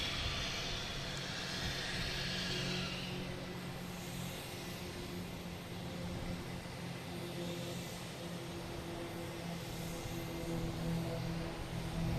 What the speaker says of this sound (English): Next up is a JetBlue flight 649 heading to Savannah, A220